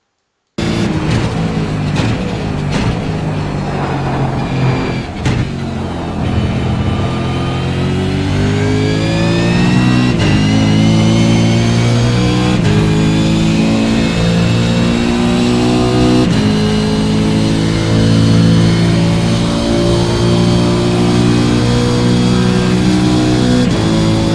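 Race car engine in the Euro Le Mans driving game, loud and close, revving up through rising gear sweeps with brief dips at each shift, holding a continuous high-speed drone throughout.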